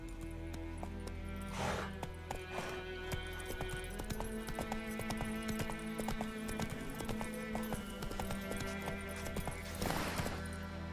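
A horse gallops in The Witcher 3 with steady, rapid clip-clop hoofbeats throughout, set under the game's music, with brief sounds of the horse breathing.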